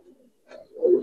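A Giribaz pigeon coos softly at close range in two short, low notes, the second fuller and louder, with no talking.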